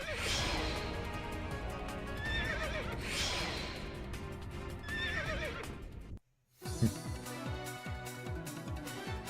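Horse neighing in the Samurai Warriors 2 Empires video game, repeated whinnies over busy game music and effects, followed after a brief dropout by hoof clip-clops.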